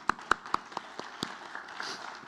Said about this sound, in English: Please give them a round of applause for their support.